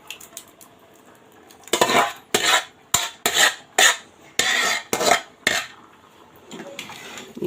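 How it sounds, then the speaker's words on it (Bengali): Boiled potatoes tipped into a pot of beef, a run of sharp metallic clanks and scrapes of a spoon against the pot in irregular bursts, close and clear with quiet gaps between. "এখন আমি এর মধ্যে দিয়ে দেব মাংসের মধ্যে আলুটা"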